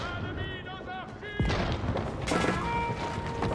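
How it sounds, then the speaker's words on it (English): In Age of Empires IV, cannon fire booms against a stone keep, a heavy blast with crashing impact followed by another bang, under an excited commentator's voice and battle noise. "the cannon's just obliterating the keep"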